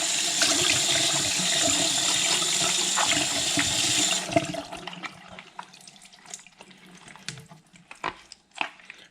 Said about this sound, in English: Now we're just going to put a little water in there and then blast it.